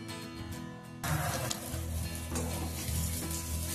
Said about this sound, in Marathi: आणि ही फक्त 5 मिनिट होऊ द्यायची तेलामध्ये छान फ्राय